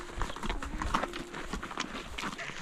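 Horse hooves clip-clop on the way into Boquillas village, Mexico, a near, irregular series of hoof knocks with faint voices in the background.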